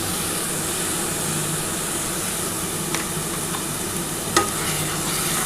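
Spice paste mixed with yogurt and ground cashew sizzles and bubbles in a pan for doi katla fish curry, a dense steady hiss with a couple of faint spoon knocks, close and unaccompanied by voices.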